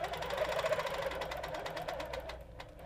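Domestic sewing machine stitching across quilt fabric during curved-ruler quilting, a steady continuous motor whir with rapid needle rhythm, close and fairly loud, slowing slightly near the end.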